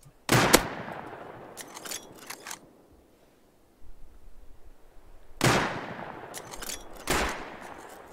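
Gunfire in the survival video game Rust, heard as two separated bursts of several sharp, loud shots each with a decaying tail, with a quieter stretch between them.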